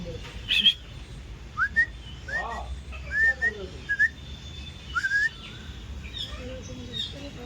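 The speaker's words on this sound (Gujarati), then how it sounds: "અલગ અલગ પ્રકારના અહીંયા પોપટ છે" Parrots calling in an aviary at Kankaria Zoo: a scattered series of short, bright chirps and whistled calls at moderate distance over a low background hum.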